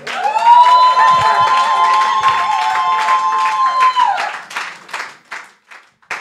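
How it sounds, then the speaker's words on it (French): A church congregation applauds and cheers loudly during a sermon, dense clapping with voices over a sustained tone, then thinning into scattered claps. "Acclamons le Seigneur"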